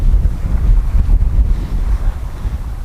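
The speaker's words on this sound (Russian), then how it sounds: "Ветер уже не такой сильный, как был 16 числа, вчера 17-го." Strong wind gusts buffet the microphone on the Anapa seashore on the Black Sea, during a cold February nor'easter, a loud, steady low rumble with surf-like roaring and no voices.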